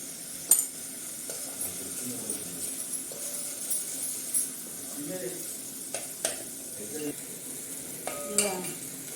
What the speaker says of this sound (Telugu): మంచిగా వేగాలి పచ్చిమిరం ఇందులో కొంచెం పసుపు వేసుకోవాలి